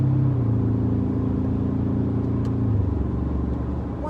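A Ford Ranger Raptor pickup's engine rumbles loudly from inside the cabin in sport mode, holding a steady drone before the pitch drops sharply as the transmission shifts gear.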